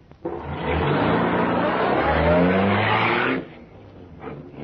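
A car engine roars and tyres skid in a radio drama police chase, a loud sustained rush of revving and squealing that cuts off abruptly, followed by a quieter rumble.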